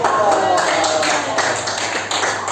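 Students clap for each group in a classroom during a teaching assessment, a steady wash of many hands lasting the whole moment, with voices talking over it.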